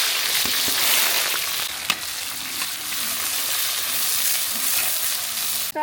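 Dense, loud sizzling of onions frying in hot oil, steady throughout with a few scraping stirs and clicks, no voices.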